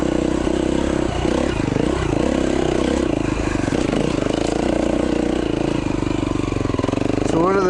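A 2011 KTM 350 XC-F dirt bike engine rides a muddy trail in Utah, its close, loud engine note rising and falling with throttle and wheelies, with a rider speaking over it.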